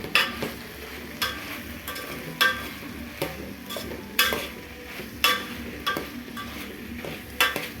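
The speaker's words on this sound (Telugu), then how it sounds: "ఇప్పుడు తిప్పుకుందామండి. దీన్నే దొండకాయ ఫ్రై అని అంటారు." A spatula stirs ivy gourd fry in a pan, giving repeated scraping clatters roughly every half second over a soft, steady sizzle.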